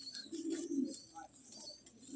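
A moulting pigeon gives a soft, low coo, faint and close, with light chirps around it in an otherwise quiet space.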